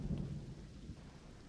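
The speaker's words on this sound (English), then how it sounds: "Is this a regular thunderstorm?" Thunderstorm in a Minecraft-style castle-building game: a low rumble of thunder over steady rain hiss, moderately quiet and continuous, with no voices.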